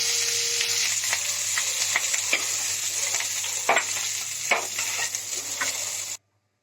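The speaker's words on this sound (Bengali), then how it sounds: "এবার আমি ডিমগুলো হালকা ভেজে নিচ্ছি।" Boiled eggs fry lightly in a pan with a steady, close sizzle, broken by scattered scraping clicks from stirring. The sound then cuts off abruptly.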